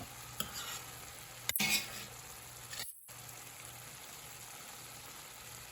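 Ground beef and mixed vegetables with soy sauce being stirred in a pan: a soft, quiet sizzle with a few scraping stir strokes and brief clatters, no talking.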